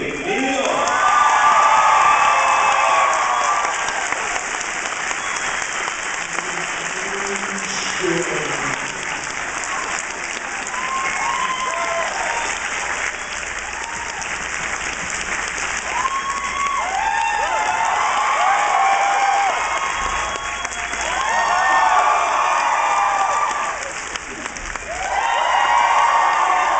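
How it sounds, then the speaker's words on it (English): A large convention audience at Dragon Con in Atlanta applauds and cheers for actor Robert Duncan McNeill, giving a dense sustained roar of clapping with whoops and shouts that swells several times and continues for nearly half a minute. "Please give a warm round of applause for Robbie Duncan McNeill."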